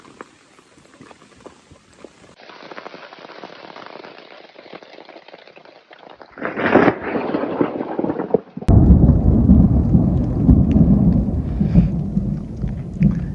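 Thunderstorm over a lake in Temagami, heard from a makeshift shelter, with rain pattering at first, a brief loud rumble of thunder, and then heavy rain hammering steadily and close.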